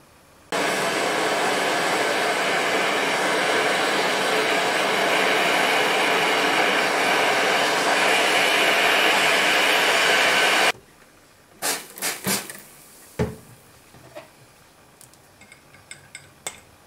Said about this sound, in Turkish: İki tane de cıvatam var. Onları kaynatmak istiyorum.